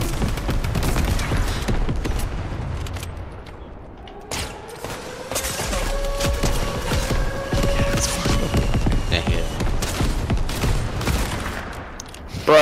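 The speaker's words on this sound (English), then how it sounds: "Who the heck is dropping airstrike? That's me." Explosions from a called-in airstrike in a shooter video game, a dense rolling barrage of booms and blasts mixed with gunfire and some tonal effects, loud and continuous throughout with a brief dip midway.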